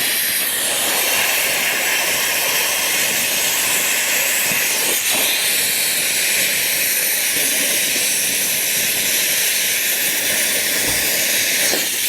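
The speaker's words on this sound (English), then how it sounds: "This is an air compressor," An air compressor blasts air onto campfire coals, a loud continuous rushing hiss that holds steady throughout, close and with no talking.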